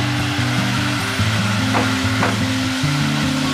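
Kashmiri red chili powder is stirred into frying spices in a pan for a tilapia fish curry, giving a continuous soft sizzle with a couple of faint scraping strokes, under steady background music.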